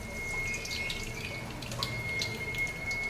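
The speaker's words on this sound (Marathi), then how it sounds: "मी तेल तापत ठेवलेलं आहे चालू आपण मोहरी" Mustard seeds dropped into hot oil in a pan while cooking a cowpea vegetable dish give a steady, close crackling sizzle with scattered sharp pops throughout, no voices.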